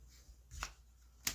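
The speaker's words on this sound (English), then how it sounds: "So let's shuffle up one more time." A deck of trading cards is shuffled up close, giving two quiet, sharp riffling snaps about half a second apart over a soft background.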